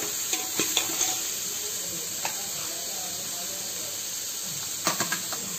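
Onion, garlic and green chili fry in a pan with a steady sizzling hiss, broken by sharp clicks and scrapes of stirring near the start and end, heard close and without talk.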